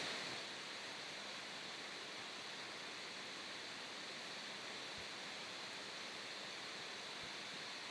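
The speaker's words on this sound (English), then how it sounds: "that is the fan trying to do all the buffering because my laptop can't handle a lot of the bandwidth for these streams" A laptop cooling fan runs loudly and steadily, a constant broadband whoosh with no change in level and no voices.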